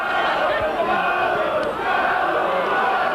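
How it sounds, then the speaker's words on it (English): Barrow rugby league crowd roars in a sustained, broad swell of shouting as spectators appeal for a knock-on against Bradford, a dense distant-sounding mass of voices filling the whole moment without a break. "The Barrow crowd appealing for a knock on there by the Bradford standoff"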